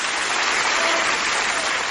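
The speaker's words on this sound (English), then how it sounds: "Let's give him a round of applause." An audience breaks into a brief, dense burst of applause, steady and fairly loud from start to finish with no voices standing out.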